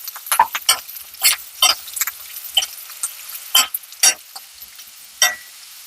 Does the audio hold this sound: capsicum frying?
yes